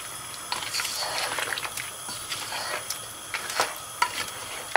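Ground spices being stirred into meat in a cooking pot for gosht achari, soft scraping and sizzling strokes in irregular bursts, fairly quiet and close.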